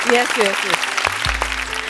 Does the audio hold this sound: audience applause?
yes